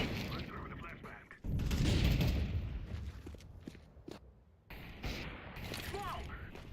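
Gunfire and a burst in a tactical shooter match, with a heavy boom near the start followed by scattered sharp shots and clicks, partly under a player's voice calling out.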